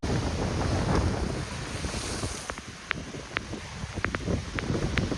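Strong waves churned up by Cyclone Remal crash and roar along the shore at Mousuni, a loud, unbroken surge mixed with gusting wind buffeting the microphone and scattered sharp splashes.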